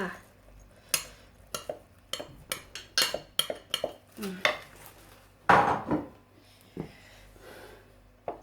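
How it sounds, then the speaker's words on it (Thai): Fermented fish (pla ra) is spooned into pounded banana salad in a mortar: a run of sharp, close utensil clinks and knocks against the bowl, spaced irregularly with brief pauses. "ใส่ปลาร้าลงไปเลย"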